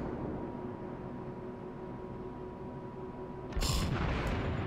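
After a steady low engine rumble, the German cruiser Admiral Hipper in World of Warships fires a single loud, booming salvo of naval guns that cracks out close and heavy near the end.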